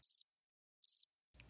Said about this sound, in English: Oh, there we go. The crickets.